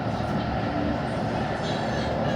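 Barcelona metro line L10 train running between stations, a loud close rumble with rhythmic wheel and rail clatter from inside the carriage, no speech heard.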